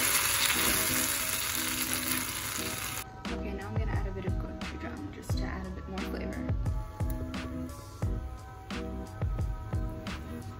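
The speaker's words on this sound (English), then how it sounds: "I'm just gonna mix this up a little bit." Red sauce with chili sizzles loudly in a frying pan. A spoon scrapes and stirs it in repeated close strokes, and a person talks over parts of it.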